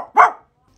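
A person's voice imitates a dog, giving one loud, close bark-like cry, preceded by a brief softer vocal sound, then silence.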